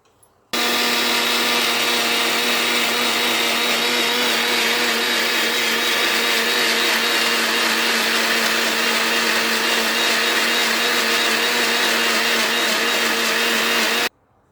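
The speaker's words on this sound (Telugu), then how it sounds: "మిక్సీ చేసుకోవాలి మెత్తగా" Mixer grinder blending idli batter in a covered jar, a loud steady motor whine running continuously for about thirteen seconds with no talking.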